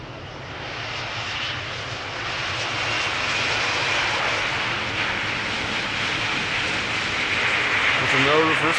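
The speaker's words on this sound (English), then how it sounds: "E2 Embraer 195, arriving from Brussels" An Embraer 195 E2 airliner arrives at Schiphol Airport from Brussels. Its jet engine roar is loud and steady, swelling slightly as it passes near, with no reverse thrust on landing.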